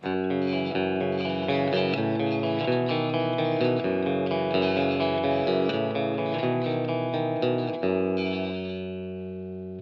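Yamaha Pacifica electric guitar with a split-coil bridge pickup through a Line 6 Helix amp modeler, sustained distorted chords with a rich harmonic spread, played steadily and fading near the end.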